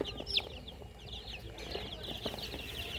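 Young chicks, four to five days old, peep with high, thin chirps over a soft background hum, several birds calling softly at close range.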